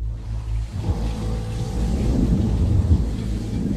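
Heavy thunder rolls in a deep, sustained rumble that swells in loudness, with a steady wash of rain behind it.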